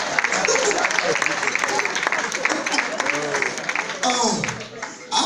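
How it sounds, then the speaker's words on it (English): Audience applause at a stand-up comedy show fills the room with dense, steady clapping throughout, with a brief swell near the end and a few voices mixed in. "We should give ourselves a round of applause just for being still alive."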